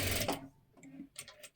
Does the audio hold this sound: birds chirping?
no